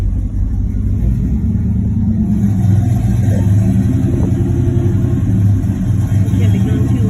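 A Pontiac GTO's engine rumbles loud and steady at its first start after six months sitting, with the revs rising and surging throughout, and voices talking over it nearby.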